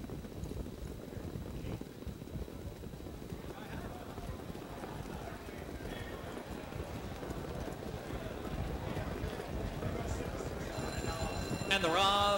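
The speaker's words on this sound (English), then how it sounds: "Nine pacers lined up for tonight's fifth race." Nine harness racing pacers gallop along the track in a race at the Meadowlands, a steady, continuous drum of hooves over wind noise. A track announcer talks over the running throughout.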